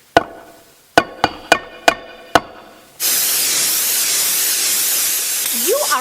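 Six sharp knocks from a paint sprayer being banged come first, followed by a loud, steady hiss as it sprays paint onto an outdoor Christmas tree, with no voices.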